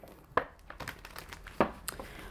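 A deck of tarot cards being split: soft papery riffles and a couple of sharper card snaps, close and quiet, with no talking.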